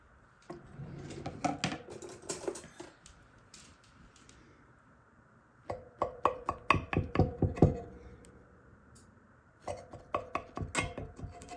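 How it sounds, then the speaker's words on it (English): A knife cuts through a slice of cornbread in its pan, giving bursts of sharp scraping and clinking against the metal in three separated clusters with quiet pauses between them. "And then I'll cut a slice and pop it out for you."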